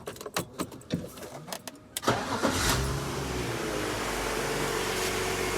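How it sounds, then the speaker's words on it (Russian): A BMW X5 E53 with the M54 engine starts up after a few clicks and handling noises; the starter cranks briefly, then the engine catches and settles into a steady, close idle hum. "Собственно, запускаем двигатель."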